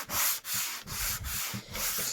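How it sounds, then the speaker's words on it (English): An electric sander works over wooden furniture being upcycled, giving a close, steady abrasive rasp that rises and falls in short rhythmic strokes, with no voices. "I'm going to take my sander and I'm going to buff away"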